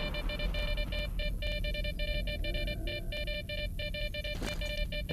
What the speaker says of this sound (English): this beeping is getting on my nerves